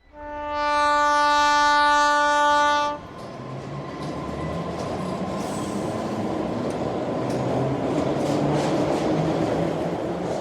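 A train sounds a loud, sustained horn blast for about three seconds as it departs. A steady, rolling rumble of wheels on track follows and continues to the end, with no voices over it.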